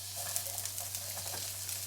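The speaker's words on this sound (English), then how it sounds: "put a little bit of olive oil in there and get these onions cooking" Onions sizzling in olive oil in a pan, a steady soft crackle and hiss with faint stirring, close but low in level, with a constant low electrical hum beneath and no talking.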